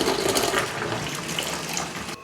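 Cold tap water runs steadily into a bucket at close range, a continuous splashing rush with no talk over it, cutting off near the end.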